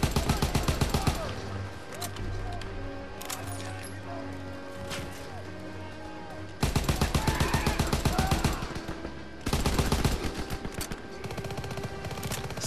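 Bursts of automatic gunfire from a gun in Call of Duty WWII campaign mode: a long rapid volley, a pause with distant battle noise and a voice, then two more loud rattling bursts.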